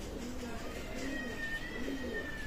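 An imported male Pakistani Teddy pigeon gives a soft, low coo, a short repeated murmur heard close against a quiet hiss.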